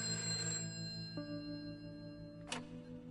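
In the video game A Way Out, a telephone rings during a prison phone call, a faint electronic tone that shifts pitch partway through, with a brief brighter chime near the end.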